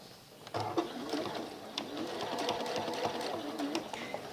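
A sewing machine stitches fabric close by. Its motor whirs steadily while the needle taps rapidly, and the work runs continuously for several seconds after it starts.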